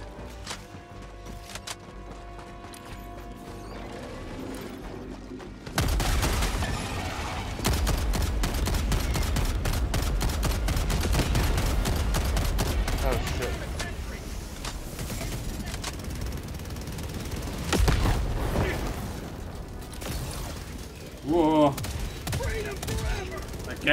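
A Gatling sentry in the video game Helldivers 2 lets loose sustained rapid automatic fire, loud and continuous after a quieter opening, mixed with other battle noise.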